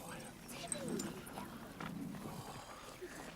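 A dog whimpers in an outdoor field, its whines mixed with agitated speech from people nearby throughout.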